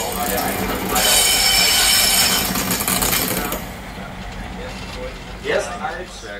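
A DB class 103 electric locomotive in wine-red and beige arrives at a museum summer festival, wheels squealing loudly over rails for a few seconds, then fading to a quieter rumble with brief clanks near the end.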